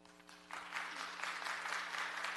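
Audience applause breaks out at a formal city planning and land use committee meeting, a steady burst of clapping from a crowd that swells after the first half second and holds for about two seconds.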